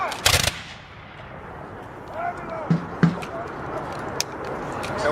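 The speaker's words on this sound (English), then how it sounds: "So that's called volley fire, when they all fire at the same time." Muskets from 1813 re-enactment soldiers fire together in one loud, sharp volley that cracks out at the start, then gives way to quieter open-air background noise.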